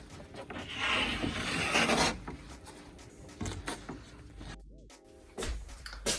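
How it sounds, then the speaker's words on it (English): Rough wood edges are hand-sanded with 150-grit sandpaper, giving soft rasping strokes for about two seconds, then faint, scattered handling noises. "Just taking a little bit of the rough edges off on it. Just using 150 grit."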